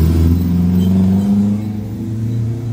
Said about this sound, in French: Là, on entend rugir un moteur. C'est une Alpha qui arrive